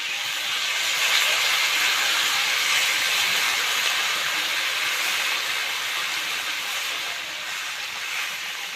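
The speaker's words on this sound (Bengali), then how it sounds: "ফুলকপির সঙ্গে মশলাটা আমি কষে নিয়েছি, এখন জল দিয়ে দেবো।" Water poured into a pan of cauliflower fried with spices gives a loud, steady hiss and sizzle that holds evenly for the whole stretch, fading slightly near the end, with no talking.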